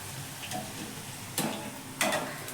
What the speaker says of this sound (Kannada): ಚೆನ್ನಾಗಿ ಗೋಲ್ಡನ್ ಬ್ರೌನ್ ಬರೋ ತನಕ ಚೆನ್ನಾಗೆ ಫ್ರೈ ಮಾಡ್ಕೋಬೇಕು ಎಣ್ಣೆಯಲ್ಲಿ